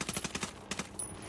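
Gunfire in the Ghost Recon Wildlands video game: a quick run of five or six rapid automatic shots, a short pause, then a few more bursts, moderately loud and without talk.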